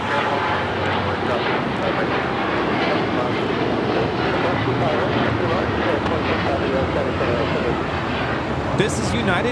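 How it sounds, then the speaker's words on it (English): A United Airlines Boeing 787-9 Dreamliner takes off at Los Angeles airport, its engines a loud, steady broadband roar that stays strong throughout. "This is United Airlines Flight 32 taking off to Tokyo Narita on the 787-9 Dreamliner"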